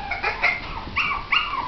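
A five-week-old Shih Tzu and Bichon cross puppy whimpers close by in a few short, high, thin whines and yips.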